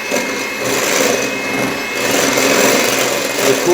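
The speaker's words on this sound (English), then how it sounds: "We'll just be using our hand mixer today." An electric hand mixer whipping cream whirs loudly and continuously up close, its high motor whine holding steady with slight swells in intensity.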